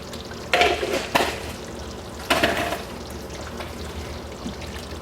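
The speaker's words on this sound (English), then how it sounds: "Give it a big stir" Parmesan cheese is stirred into a cooked dish in a pot off the heat, a few soft scraping and splashing strokes at moderate distance, with low background hum between them.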